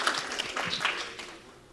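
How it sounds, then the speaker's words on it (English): A short burst of scattered clapping from a small business conference audience, fading out after about a second. "Clap for them."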